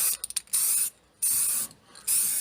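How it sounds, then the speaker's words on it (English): Black Colour Forge aerosol primer sprayed onto miniatures in three long, loud hissing bursts with short pauses between, preceded by a few quick mechanical clicks from the can. "we're going to hit them with some black"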